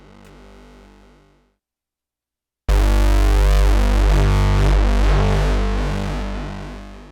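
A synthesizer note fades out, then after a short silence a loud, thick chord swells in with a shimmering, randomly wavering chorus that slowly decays.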